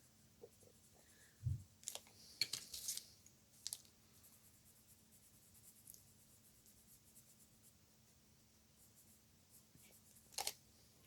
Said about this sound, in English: I'll grab my red pen, just pop in some colour on those berries